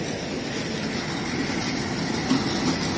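A train rolls along the railway in Jamaica, a steady mid-level rumble of wheels on track with faint clacks and a slight swell near the end.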